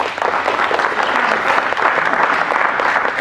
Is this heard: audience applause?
yes